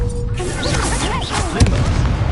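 Incendio fire spell cast in the Hogwarts Legacy video game, a loud whooshing burst with a booming thump near the middle, over a dense bed of game sound and music.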